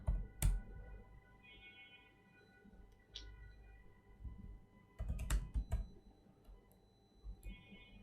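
Soft, sparse taps on a computer keyboard while a password is typed at a Linux terminal, close and quiet, with occasional sharper clicks and faint background hum.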